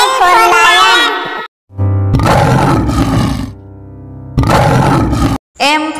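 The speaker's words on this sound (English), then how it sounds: "L for lion." A lion roars in loud, powerful bursts, with two long roars separated by short silences and a lower rumbling stretch between them, close and dominant.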